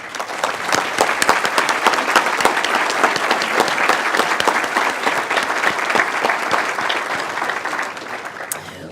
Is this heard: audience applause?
yes